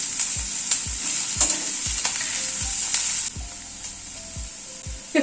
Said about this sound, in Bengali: এবার খানিকটা আদা কুচি দিচ্ছি